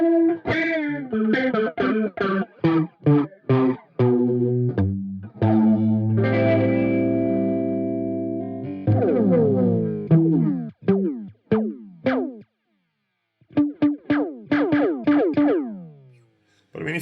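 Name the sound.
electric guitar through Earthquaker Devices Pyramids flanger pedal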